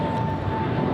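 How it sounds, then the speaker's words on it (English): An American Airlines flight departing Los Angeles International Airport, its jet engines giving a steady, broad roar with a faint whine on top, heard from a distance and unbroken. "the plane you heard flying to Charlotte"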